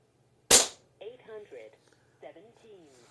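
One sharp, loud crack from an Umarex Gauntlet 2 air rifle, followed by someone talking quietly.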